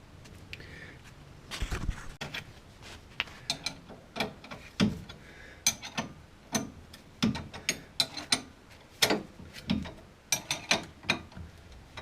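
A ratchet wrench tightens a bolt on a front brake assembly, giving a run of quick, close clicking bursts with short pauses between them and no speech.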